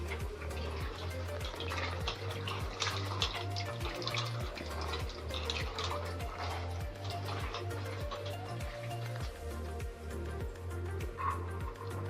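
Small bitter gourds are washed in water to rinse off soil, with steady splashing and trickling that runs continuously at close range, no voices.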